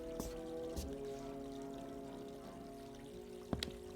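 Water pouring in a quiet diner kitchen in an old radio drama, a faint steady trickling stream, punctuated by a few sharp clinks and knocks.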